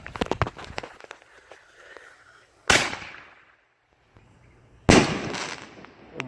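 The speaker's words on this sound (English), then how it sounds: "played with some fireworks" Backyard fireworks and firecrackers go off nearby in Iowa: a quick string of sharp crackling pops, then two loud bursts a couple of seconds apart, each trailing off into hissing crackle.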